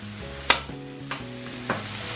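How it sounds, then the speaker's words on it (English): Meat and vegetables for a chipotle cheesesteak fry in a hot pan, a soft steady sizzle broken by three sharp scrapes and clanks of a utensil stirring them, close and fairly quiet. "Get everything cooking. Meat cooking. Veggies cooking."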